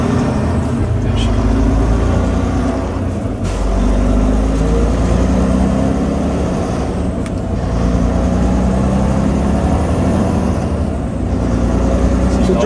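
A 2008 Volvo truck with a 500 HP D16 engine and I-Shift transmission accelerates, a loud steady drone from inside the cab with brief dips as gears change, while people talk over it.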